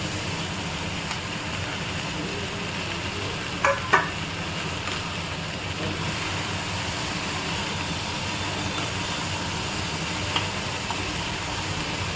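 A constant loud sizzle of potatoes frying in a pan fills the space, with a couple of brief clinks near the start of the steady crackling.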